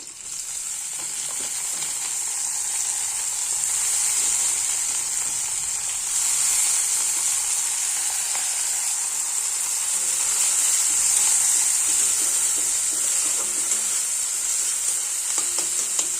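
Dried shrimp and chopped onion fry in hot oil in a pan, giving a loud, continuous sizzle with a bright hiss that holds steady throughout, with no talking.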